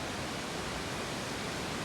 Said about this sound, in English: The Cascade Creek comes down that this canyon.